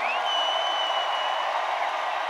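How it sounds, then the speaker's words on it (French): Large arena crowd at the Centre Bell applauding, a broad, steady wash of clapping and cheering that holds at even loudness for the whole moment. "Applaudissez Michel Grenier."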